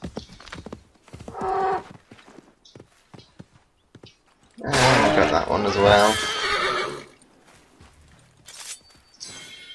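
Horse in the Assassin's Creed III video game giving a loud, drawn-out whinny mid-clip among scattered hoof and game sounds, with someone talking briefly before it.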